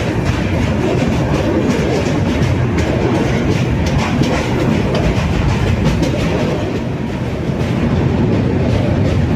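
The Kashi Tamil Sangamam Express passenger train runs on rails near Varanasi Junction, giving a loud, continuous roar with rapid rhythmic clickety-clack from the wheels, close and unbroken for the whole stretch, with no voices.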